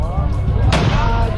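Celebratory gunfire at a wedding procession: one sharp, loud shot cracks out midway through a noisy crowd, with music and chatter continuing around it.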